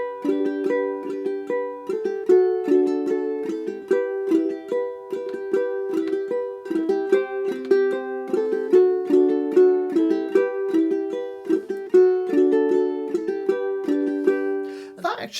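Ukulele clawhammer accompaniment of the verse chords of a song, a bright, bouncy brush-and-pluck rhythm repeating steadily for the whole stretch, close and solo with no voices.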